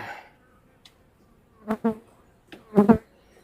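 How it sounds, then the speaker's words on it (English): A big swarm of bees during a hive inspection, heard as a few short, close buzzing bursts separated by near silence. "It's a big swarm."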